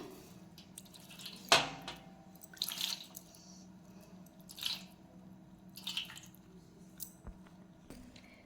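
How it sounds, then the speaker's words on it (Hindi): Water poured over an idol of Kanha for ritual bathing during Janmashtami puja, heard as a few separate splashes and drips at a quiet, close distance with soft pauses between pours. "अब जल से भी स्नान करा देंगे।"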